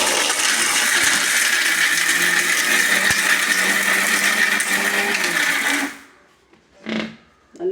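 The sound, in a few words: mixer grinder powdering arrowroot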